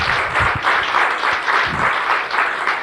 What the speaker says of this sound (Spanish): un aplauso también ahí el señor Luz Pineda.